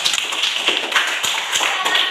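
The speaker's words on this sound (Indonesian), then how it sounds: "sekali lagi kita beri tepuk tangan untuk kelompok 3" A room of people claps for a presenting student group, a brief burst of dense, close applause with scattered sharp claps.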